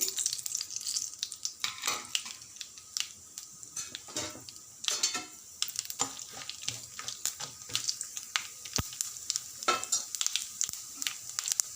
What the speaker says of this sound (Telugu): ఇప్పుడు పచ్చడి తాలింపు పెట్టుకుందామండి అర టీ స్పూన్ జీలకర్ర ఆవాలు ఒక స్పూన్ పచ్చడి పప్పు వేసి